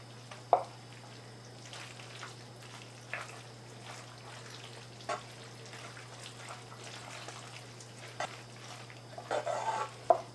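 Soft lasagna noodles being stirred into sauce in a pot: quiet, close, sporadic wet squelches and light utensil scrapes over a low steady hum, with a brief burst of clattering near the end.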